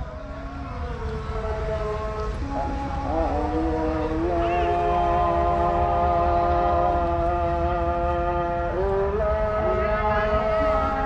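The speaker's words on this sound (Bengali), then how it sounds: "সেই লাইনে আসতেছে আয়ার ট্রেন। আয়ার ট্রেন যেটি চাঁপানগর থেকে রহনপুর যাচ্ছে।" A local commuter train on the old line from Chapainagar to Rohanpur rumbles steadily near a border station, its horn sounding in long held tones over the running noise.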